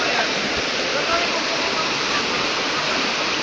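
A river rushes loudly and continuously up close at Sitio Salafay while a group wades across it, a dense, unbroken roar of flowing water.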